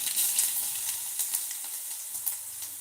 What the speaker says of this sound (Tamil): கடுகு போட்டுக்கலாம் அதோட நம்ம மிளகாயும் போட்டுக்கலாம்